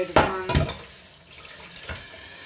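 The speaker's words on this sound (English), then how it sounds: "I fill up handy pasta bottles full of water, and it gets hot about second or third one." Tap water runs into pasta bottles at a kitchen sink, with short bursts of pouring and splashing, a couple of clinks against glass, then a quieter trickle.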